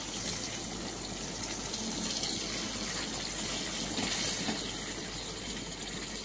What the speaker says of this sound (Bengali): এবার দিয়ে দিচ্ছি আমি পরিমাণ মতন ঝোল